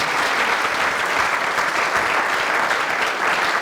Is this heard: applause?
yes